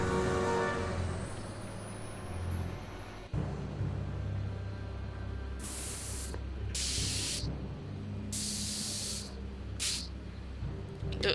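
Spray paint can hissing in the Back to the Future video game, four separate bursts of bright, loud hiss over a low, steady game background, each lasting about a second with short gaps between.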